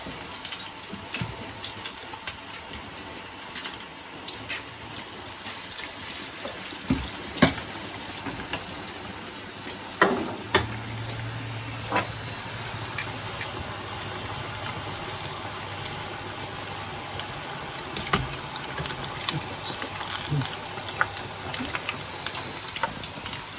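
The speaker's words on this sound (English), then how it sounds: "Into the batter. Into the oil. I'm going to cook them a couple of them at a time." Steady hiss and crackle of beer-battered food deep frying in hot oil, cooked a couple of pieces at a time, continuous throughout with a few sharp clicks and clatters, no voices.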